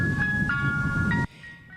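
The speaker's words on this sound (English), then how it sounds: "In this West Indianapolis neighborhood where the ice cream truck makes regular stops" An ice cream truck in a West Indianapolis neighborhood plays its jingle, a repeating tinny melody over a low rumble that cuts off abruptly, leaving a faint tail.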